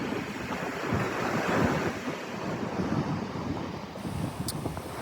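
Ocean waves breaking in sets at Seaside Park beach on a June morning, a steady roaring wash of surf with wind buffeting the microphone, no voices.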